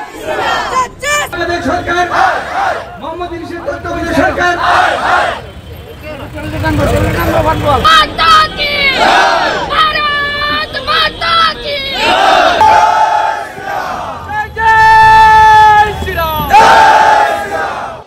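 Crowd of monks protesting in Agartala, Tripura, shouting in unison, with chanted slogans rising and falling over steady crowd noise and bursts of louder collective cries.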